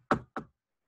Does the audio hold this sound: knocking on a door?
yes